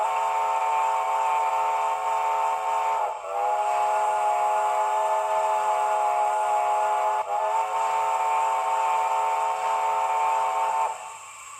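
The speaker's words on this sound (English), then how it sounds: "you hold the whistle on, then you quickly turn the function button off for the whistle, then reapply, and the whistle will dip" Steam whistle from an ESU sound decoder on a model locomotive, held as a steady shrill tone for about eleven seconds, with two brief dips in pitch where the whistle is cut and reapplied, then stopping abruptly.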